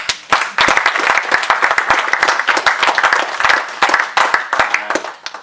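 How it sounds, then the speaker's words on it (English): Wedding guests applauding during a reception speech, a loud close burst of many hands clapping with distinct sharp claps, steady for several seconds before tapering off. "Let's have a round of applause for all of us, please."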